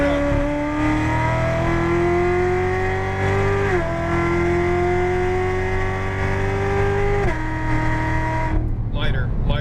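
Porsche GT3 RS engine at close range on the EXR Las Vegas track, pitch climbing steadily through two upshifts under full throttle, loud and continuous, with an instructor's voice over it.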